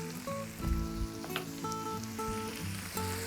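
Diced ham sizzles steadily on a Blackstone griddle, a close, crackling fry with a few brief scraping or clinking touches layered over the constant hiss.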